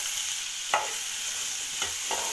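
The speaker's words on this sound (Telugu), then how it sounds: "ఇలా ఆయిల్ మొత్తము క్యారెట్కి కలిసేటట్టు ఒకసారి కలపాలండి." A spoon stirs grated carrot and oil in a frying pan, giving three or four brief scraping strokes over a soft, steady sizzle, close by and with no talking.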